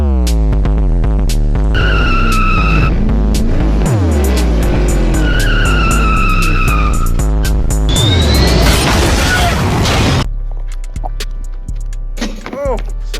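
A car drives with a shoe tied to it, its engine droning loudly and steadily while tires squeal and skid in sweeping pitch changes, over background music that fades out toward the end.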